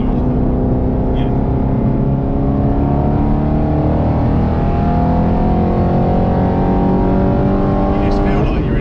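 A sports car engine, heard from inside a BMW M3 during hard acceleration, climbs steadily in pitch, loud and close throughout, with people talking over it.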